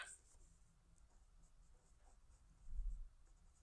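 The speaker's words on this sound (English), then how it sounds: "that means we're going to draw a dotted line going north" A pen taps and scratches faintly on paper while drawing a dotted line, soft repeated marks close by with a slightly louder bump near the end.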